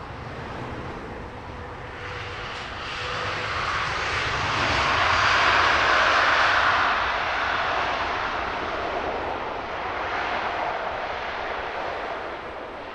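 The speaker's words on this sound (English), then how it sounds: "A little bit of movement from these planes on the aileron as they drop in." Airliners descending to land at Heathrow Airport in a light northwesterly crosswind, their engines a steady broad roar that swells to a peak mid-way as one passes close overhead, then eases back while staying loud.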